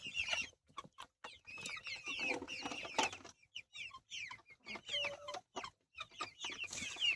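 Young 45-day-old chickens clucking and calling, a busy cluster of short chirps and clucks close by with brief pauses between bursts, no talk.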